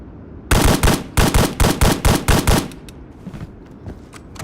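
An SVD-S designated marksman rifle fires in the BRM5 video game: about nine loud, sharp shots in quick, even succession, followed by a quieter stretch of faint clicks and rattles.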